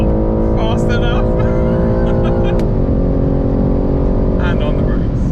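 A BMW M3 G80 accelerates hard in a drag race, its engine loud and droning close by with a gear change partway through. Voices talk over the engine.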